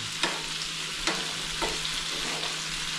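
Chicken pieces sizzle steadily in a hot pan as they are turned, with a few sharp utensil clacks against the pan rising over the constant frying hiss.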